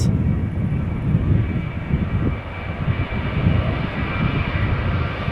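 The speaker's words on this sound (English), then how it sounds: "it looks like a Vueling in the background taking off after that" A Vueling airliner taking off at Amsterdam Schiphol Airport, its engines making a steady, fairly distant roar that holds evenly throughout with no voices.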